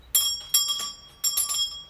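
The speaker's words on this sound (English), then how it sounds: "When people come and they want to get our attention, they just ring the bell." A small attention bell at a shop counter rings twice, each a bright, clear metallic ding with a short ringing tail, close and loud with nothing else around it.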